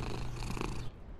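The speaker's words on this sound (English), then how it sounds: "You can hear him purring." A giant cat purrs in the video game Only Up!, a steady, close, rumbling purr that runs for about a second before stopping abruptly.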